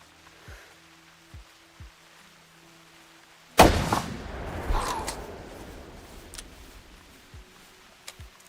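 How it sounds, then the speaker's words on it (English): A single loud rifle shot at a whitetail deer in theHunter Classic hunting game cracks out suddenly, then trails into a long echoing decay over faint outdoor ambience, with a few quiet clicks before and after. "As soon as he stops, I'm shooting."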